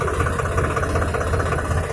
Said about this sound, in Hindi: एक नंबर गियर में ट्रैक्टर की स्पीड धीमी रहती है